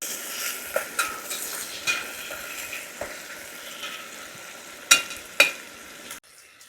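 Poha tempering sizzles in a pan at a mountain van campsite, a steady frying hiss with occasional utensil clinks and two sharper clatters near the end before it cuts off.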